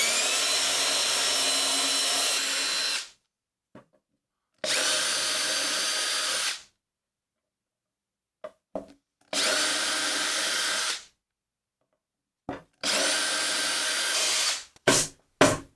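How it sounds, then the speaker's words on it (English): Power drill boring small pilot holes through a router table face plate, four loud sustained bursts of whirring a few seconds each, separated by silences and brief clicks, close and without speech. "I'll drill a small pilot hole in each of these locations, as well as one right in the middle."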